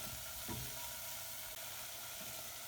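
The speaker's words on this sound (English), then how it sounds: "I'm going to add my garlic." Garlic fries in a pan for a BBQ rib sauce, giving a quiet, steady sizzle with a faint stir or two and no voices.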